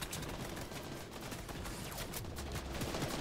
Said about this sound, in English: Yeah, they're all shooting.